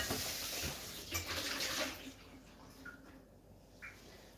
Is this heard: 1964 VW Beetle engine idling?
no